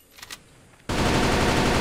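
Automatic gunfire sprays in a team-mode street map of the CrossFire mobile shooter. A few faint clicks come first, then a sudden loud, sustained burst of rapid shots runs to the end.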